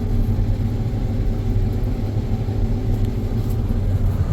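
Combine harvester running steadily while harvesting durum wheat in a saline field, a constant low diesel rumble and mechanical drone heard close from the cab with no talk.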